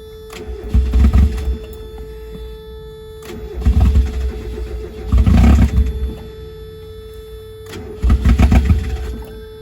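A $700 Mazda Miata with a suspected lifter problem idles and revs in four rough surges, low engine roar swelling and dropping back between bursts, close up with no talk.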